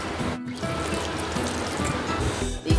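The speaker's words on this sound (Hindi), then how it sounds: "थोड़ा पानी डालेंगे और इसका पेस्ट बना लेंगे" Water poured into a grinder jar holding ground spice paste for a stuffed brinjal curry, a steady close liquid fill lasting a few seconds with a brief clunk at the end.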